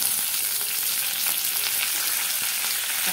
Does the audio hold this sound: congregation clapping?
no